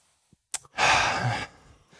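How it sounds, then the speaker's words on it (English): A single deep breath during an exercise bike workout, close and loud, one long airy rush of just under a second after a quick catch of air, alone without talk. "let's go ahead and breathe it in"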